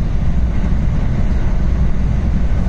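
Steady, loud rumble of a JR local train running on rails between Toyohashi and Nagoya, continuous low roar with no breaks throughout.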